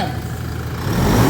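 A car engine breathing through an AFE Momentum GT cold air intake rumbles close and loud, its note swelling slightly toward the end as a rev begins.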